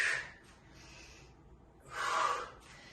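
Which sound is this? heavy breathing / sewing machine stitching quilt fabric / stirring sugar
heavy breathing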